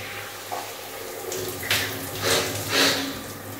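Shower water running in a home bathroom, a steady close hiss of spray with brief louder splashes as it strikes a body and surfaces, no talking.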